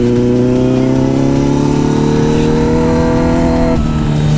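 A Kawasaki Z900 motorcycle accelerates hard through a sweeping curve, its engine note loud and close as it climbs steadily in pitch over several seconds, with no talk over it.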